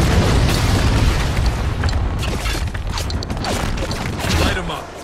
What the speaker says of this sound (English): Prepping mortar.